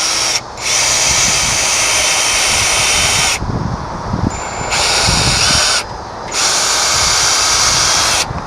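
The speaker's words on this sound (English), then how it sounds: "we're going to drill our holes" Power drill boring holes into wood boards for a DIY compost bin, three long loud whining runs of the motor separated by short pauses, close up with no talking.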